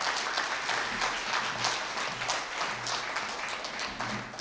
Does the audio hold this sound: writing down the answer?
no